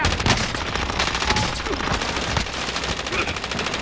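Dense, continuous gunfire from Call of Duty: Modern Warfare, with rapid overlapping shots and bursts rattling close and loud throughout, with a voice briefly heard underneath.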